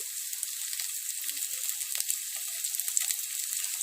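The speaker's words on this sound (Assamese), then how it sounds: "এতিয়া ইয়াত মই নৰসিংহ পাতকেইটা দি দিম।" Curry leaves dropped into hot oil in a kadai give off a steady, bright sizzling hiss that stays loud and even throughout, with tiny crackles and no voices.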